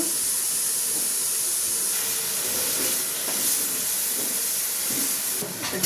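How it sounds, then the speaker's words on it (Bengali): Cubes of paneer fry in hot ghee for a Kashmiri pulao, giving a loud, dense, unbroken hiss of sizzling fat that stays close and even throughout, with no voices. "এই ঘিয়ের মধ্যেই আমি পনিরটাকে ভেজে নিই।"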